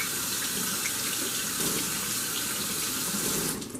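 Hands being washed under a running kitchen tap after mixing flour, a steady broadband rush of water pouring into a sink for almost four seconds, fairly close, cutting off at the very end.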